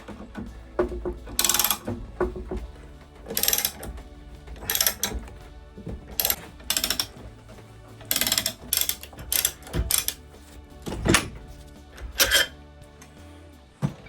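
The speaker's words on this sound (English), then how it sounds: "I can hear the bearing moving" Repeated metallic clunks and grinding knocks from a loose wheel bearing shifting inside a Porsche Cayenne GTS hub, irregular bursts at close range with no talking.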